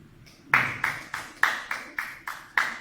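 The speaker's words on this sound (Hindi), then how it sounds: "ताली।" An audience claps together during a spiritual talk by a Swami, giving about eight evenly spaced, sharp claps in a steady beat, fairly close and with no one speaking.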